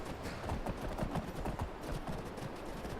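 Horse hooves clip-clop in Skyrim with a steady, rapid patter, fairly close and continuous over a dense wash of outdoor ambience.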